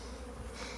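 Honey bees buzz steadily across a hive frame, a close, continuous droning hum of many insects, with a sudden sharp knock at the very end and no talk.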